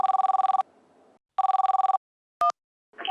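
A telephone rings in two long trilling bursts with a short chirp after, loud and close, on a comedy stage show as a call is placed to Allahabad.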